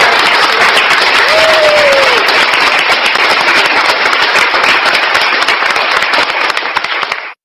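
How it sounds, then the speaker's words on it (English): A loud, dense burst of hand clapping from a crowd, continuous and even throughout before cutting off abruptly at the end. "I give him a round of applause for that."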